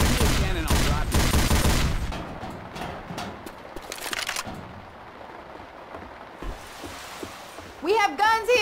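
Gunfire in Left 4 Dead 2, dense bursts of rapid shots up front that thin out into scattered cracks and ambient noise, ending with a short voice, loud and close.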